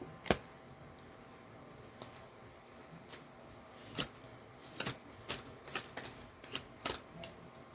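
A new, stiff tarot deck is shuffled up close, with quiet papery riffles and sharp card snaps arriving in irregular bursts against a hushed room.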